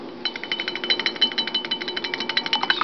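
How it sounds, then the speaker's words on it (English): A wire whisk stirs freshly made colloidal silver in a container, giving a fast run of rhythmic metallic clinks and swishes against the sides that stays steady and close for about three seconds. "Give it a stir."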